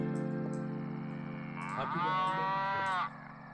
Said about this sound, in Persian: صدای گاو چی داری میگه؟